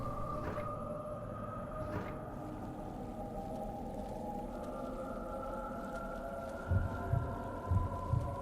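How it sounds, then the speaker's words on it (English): Heartbeat sound effect in the video game Kuon: low, muffled double thumps pulse a few times near the end over a constant, dark droning ambience with faint tonal hums, no voices. "As if you can hear it, the heartbeat tells us something's gonna happen."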